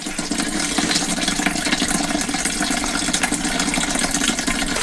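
Water runs steadily from a hose or tap while a Husqvarna motorcycle is washed in a workshop, a loud, constant hiss and splatter that holds level for the whole stretch, with no voices.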